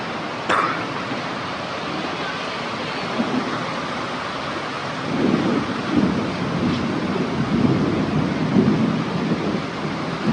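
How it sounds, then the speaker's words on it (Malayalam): Distant thunder rumbles low beneath steady rain hiss, swelling in a few rolling waves toward the end; no talking. "നല്ല ഇടിവെട്ടുണ്ട് കേട്ടോ."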